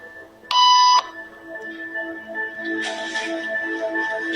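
A single loud electronic beep sounds for about half a second during a group conformity experiment. Quieter tones and faint room noise follow it.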